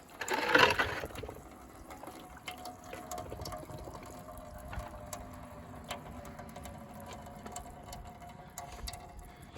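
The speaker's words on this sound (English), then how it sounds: "we're gonna pour some same amount of water on both of them," Water is poured onto meadow soil samples to simulate rainfall, with a louder splash at the start and then a faint trickle and soft dribbling that continue quietly over the rest of the stretch.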